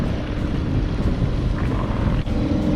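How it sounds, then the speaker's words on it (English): A strong nor'easter blows around an island while out in a small dinghy, a loud, continuous rumble of wind buffeting the microphone with splashing water underneath, steady for the whole stretch. "You don't want to be here today with this nor'easter blowing."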